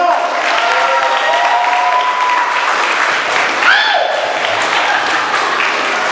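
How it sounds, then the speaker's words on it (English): Loud, sustained applause from a large audience fills a convention hall, steady throughout with some whoops and cheering voices mixed in. "Give Sister Keisha a round of applause"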